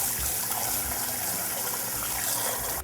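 Tap water gushes steadily over a handful of green beans being rinsed in a kitchen sink, a loud, continuous splashing rush with no talking.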